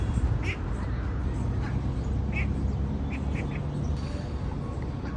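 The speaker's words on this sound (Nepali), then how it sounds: "दुईटा हाँसले पानी खाँदैछ" Ducks at a government park give several short, scattered quacks over a constant low outdoor hum, with faint voices in the background.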